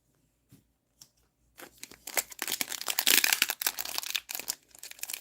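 Plastic foil wrappers of Magic: The Gathering Kaldheim draft booster packs being torn open: a few soft taps, then several seconds of loud, close crinkling and crackling.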